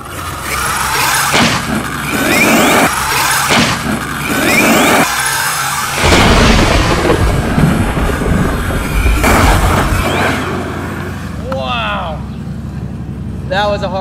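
A Traxxas XRT RC truck crashes hard with a loud chassis slap amid whirring motor and rolling noise over about fourteen seconds, with people talking and a high squeal near the end.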